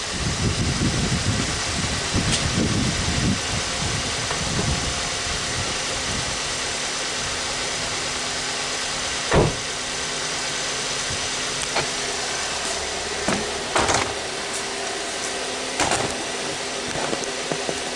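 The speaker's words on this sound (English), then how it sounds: "A long time cranking to get this thing started." Hyundai or Kia car engine with an oil consumption problem running after a long crank to start, a steady, fairly loud hum with a few faint clicks and knocks, no talking.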